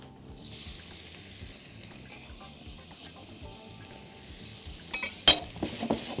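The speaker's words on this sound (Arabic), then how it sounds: "البصل واخده سوتيه" Onions sauté in oil in a pan, a soft, steady sizzle held close, broken near the end by a few louder clattering stirs and scrapes.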